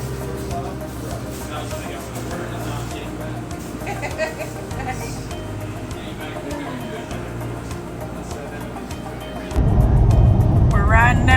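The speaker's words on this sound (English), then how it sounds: "We're riding down the road" A car driving down the road toward Amicalola State Park, a steady low rumble of engine and tyres heard from inside the cabin under talk, with a louder burst of road and wind noise near the end.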